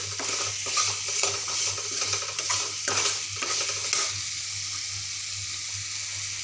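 Ash gourd pieces sautéed with spices in a pan, a close continuous sizzle with rhythmic scraping and clinking of a spatula against the pan for the first few seconds, then a steady fry alone.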